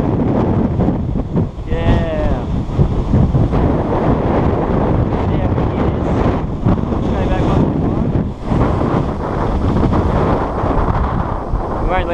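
Loud, constant wind buffeting the microphone with a roaring rumble throughout at horse racing starting gates, a voice occasionally audible beneath it.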